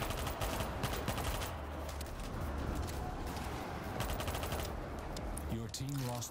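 Rapid bursts of submachine gun fire in World War Z, close and dense, run almost without a break amid game noise and chaotic sound effects, with a voice speaking briefly near the end.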